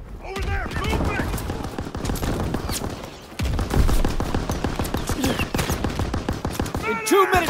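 Dense suppressing gunfire in Call of Duty WW2, rapid machine-gun bursts and rifle shots rattling continuously, with shouting voices cutting in near the start and end.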